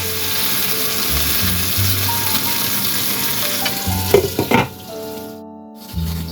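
Tomatoes fry and blister in a pan with a steady close sizzle, broken by a few clattering pan or utensil knocks near the end before the sound briefly drops away and resumes.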